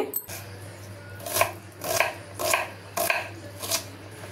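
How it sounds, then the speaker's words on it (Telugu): A knife cuts onion into pieces on a board in a home kitchen, with five crisp, evenly spaced chops about half a second apart, close and clear over a low steady hum. "అన్నీ ఇలా ముక్కల్లాగా కోసుకోవాలి."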